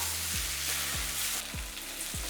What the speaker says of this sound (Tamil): இந்த கறி மசாலாவோட பச்சை வாசம் போகிறதுக்காக நல்லா இந்த மாதிரி வதக்கிடலாம்